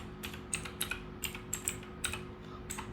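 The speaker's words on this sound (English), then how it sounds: "first type" Keys clack on a computer keyboard while coding in Python, a close, steady run of crisp keystrokes over a constant background hum.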